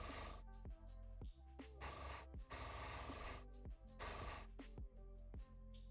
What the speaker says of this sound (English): Just need to clear the nozzle.